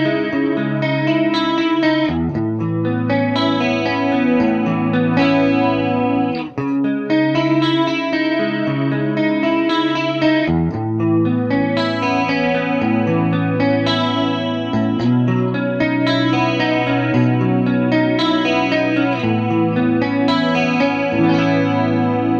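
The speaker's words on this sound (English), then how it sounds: "So here's the tri-chorus. And I blend in a little bit of echo and play something." Electric guitar played through a tri-chorus modulation effect with a little echo blended in, a lush, shimmering wash of sustained chords and melodic notes ringing steadily and loudly throughout with no talking.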